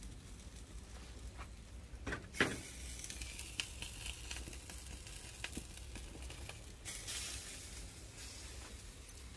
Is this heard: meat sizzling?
yes